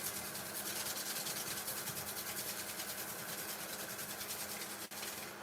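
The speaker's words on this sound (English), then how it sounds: "We'll do burnishing on the outside too." A wooden bowl spinning on a lathe gives a steady, faint whirring hum, with the soft rubbing of burnishing on its outside running continuously throughout.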